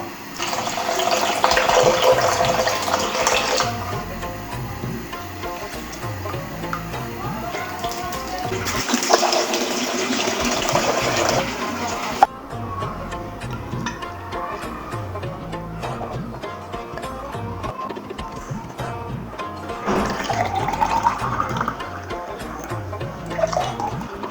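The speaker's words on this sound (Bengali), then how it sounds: "তো চিরাটা আমি তো ভিজিয়ে রাখবো।" Water runs steadily from a tap over flattened rice (chira) set to soak, a continuous close splashing rush whose intensity shifts as the flow changes.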